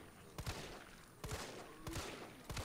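Repeated gunfire from shooting zombies in Resident Evil 3 Remake, three or four loud bursts spaced about a second apart over game ambience.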